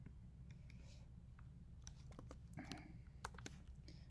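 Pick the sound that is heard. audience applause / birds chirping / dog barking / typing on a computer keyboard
typing on a computer keyboard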